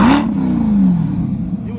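A Corvette C8 fitted with custom exhaust pipes revs close by, a loud rising then falling roar that settles into a low rumble; a voice talks over it.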